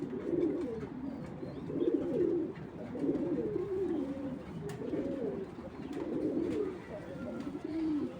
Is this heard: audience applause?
no